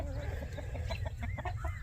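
Chickens cluck in short, scattered bursts over a steady low rumble, fairly close on a farm, with no one talking.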